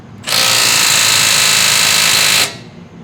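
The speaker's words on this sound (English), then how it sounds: "Let's see in speed 3 if we can indeed tighten down the lug to 154 foot-pounds." A Milwaukee M12 Fuel 3/8-inch stubby impact wrench (2554-20) runs on speed 3 tightening a vehicle lug nut, a loud steady buzzing hammer for about two seconds that starts and stops abruptly, alone without talk.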